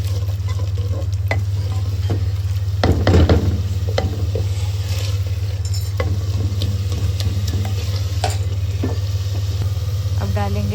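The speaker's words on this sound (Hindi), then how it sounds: "अब हम डाल देंगे इस मसाले को भूनने के लिए थोड़ा सा पानी।" Masala sizzling and being stirred in a pan after a little water is added, with a steady frying hiss, scraping spoon strokes and a louder burst of bubbling near the start.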